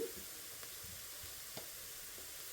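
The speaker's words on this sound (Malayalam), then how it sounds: "നന്നായിട്ടൊന്ന് ഇളക്കി കൊടുക്കണ്ടേ" Coriander powder frying in a pan for pepper chicken, stirred with a spoon: a faint, steady sizzle with a few soft scraping strokes, quiet and alone.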